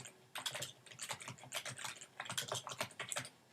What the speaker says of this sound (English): So I type in the class name